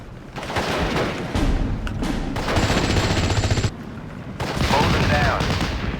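Covering gunfire rattles through a Steel Division: Normandy 44 battle, with dense overlapping bursts and thumps running throughout, and voices speaking in places underneath.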